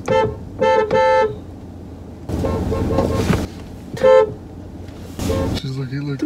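Several short car horn toots in bursts, some doubled or tripled, alternating with stretches of louder traffic or engine noise.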